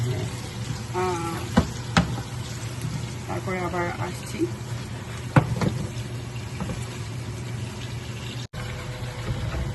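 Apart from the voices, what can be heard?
chicken frying in a pan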